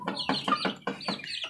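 A sick chicken of the talisay breed, suffering from a cold, gives a quick series of about five rough, close clucks in an even rhythm.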